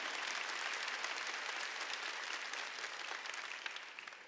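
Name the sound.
applause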